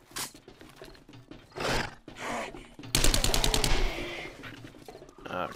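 Bursts of SMG gunfire in 7 Days to Die during a day-7 zombie horde fight, a rapid rattling volley mid-clip between shorter scattered shots.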